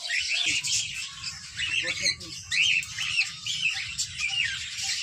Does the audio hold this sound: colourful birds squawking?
yes